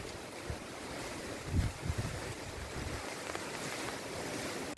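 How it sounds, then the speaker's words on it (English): Strong gust of wind rushing through palm trees in a garden in Rwanda, a broad, steady roar that swells briefly and buffets the microphone, with no voices. "A strong gust of wind usually warns you before it's about to rain. Here it is through the palm trees in my garden."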